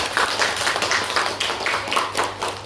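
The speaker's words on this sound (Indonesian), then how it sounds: "Bagus, tepuk tangan semuanya kalian" Students in a class clapping together, a close, fairly loud burst of many hands with a loose rhythmic pulse running throughout, no voices on top.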